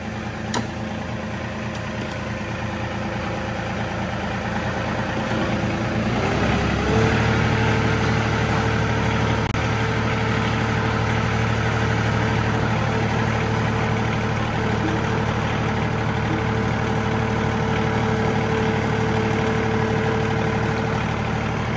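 A John Deere 2038R compact tractor engine starts with a short rough burst, then settles into a steady, close, low idling drone that holds evenly to the end.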